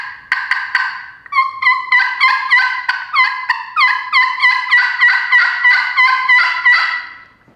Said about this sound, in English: do some cutting, excited hen yelps.